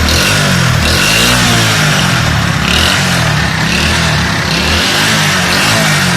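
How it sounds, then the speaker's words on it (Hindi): Motorcycle engine revved hard through its silencer, a loud, close, continuous exhaust roar with repeated swells as the throttle is blipped, heard alone. "सिलेंसर को मोटरसाइकिल को रेस देकर रखें"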